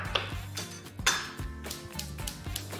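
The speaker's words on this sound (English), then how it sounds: "we're just going to take the plantain and give it a little cut up, some little cubes" Raw plantain being cut into small cubes for a dasheen and plantain pie, with a knife clicking and clinking against the board and dishes in a few separate taps over a low background hum.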